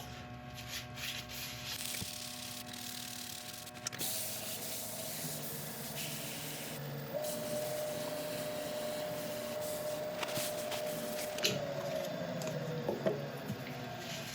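Abrasive paste rubbed over a spinning resin woodturning piece on the lathe, a continuous hissing, scratchy friction with a steady mechanical hum beneath and a few shifts in pressure, close and fairly loud.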